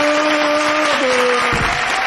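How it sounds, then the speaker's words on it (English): Audience clapping at a comedy show for the judge, a continuous wash of applause with a sustained voice tone running over it, loud and close. "Start clapping now."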